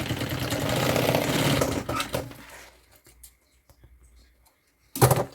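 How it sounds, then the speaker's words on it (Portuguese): A sewing machine stitches a strap onto a luxury suitcase organizer bag, running loud and steady for about two seconds, then slowing into short bursts and halting, with one final brief run. "você começa a costurar a sua alça"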